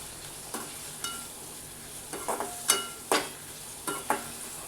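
Capsicum with salt and turmeric being stirred in a hot pan, a low sizzle punctuated by several sharp spatula scrapes and knocks in an uneven rhythm, near and clear with nobody talking.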